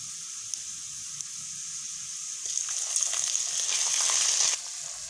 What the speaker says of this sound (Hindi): अदरक ऐड करने के बाद इसको हम लोगों ने अच्छी तरह से पका लिया है।